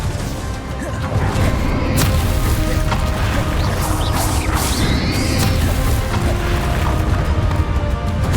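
Confringo blasting spells burst in a Hogwarts Legacy dragon battle, loud crashing booms and whooshes layered over dense rumbling game effects, with a voice calling out a spell.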